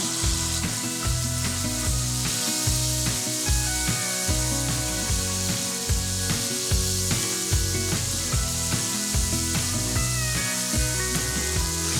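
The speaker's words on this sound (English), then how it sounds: "we are going to just let that sear for a few minutes, get it nice and brown on both sides" Elk rib rack searing in a hot cast iron pan, a loud steady sizzle under a continuous music bed, with no talking.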